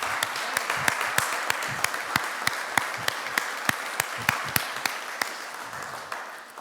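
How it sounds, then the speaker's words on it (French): A church congregation claps for the Lord in a steady, rhythmic beat, sharp regular claps over a bed of scattered applause, fairly close and moderately loud, with no voices. "voici pourquoi nous allons applaudir pour le Seigneur"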